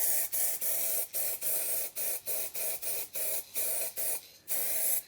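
Action brand aerosol spray paint coating a Golf 2 VR6 engine bay, hissing in a quick series of short bursts, about a dozen, with brief gaps between, close and fairly soft, no talking.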